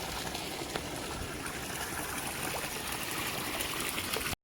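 Swollen mountain stream rushing steadily on a trek from Kullu to Bhekhli, a broad continuous wash of flowing water close by, unbroken apart from a brief dropout near the end.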